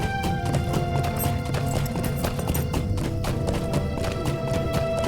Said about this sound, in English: Could my horse run slower? I've got the fast horse,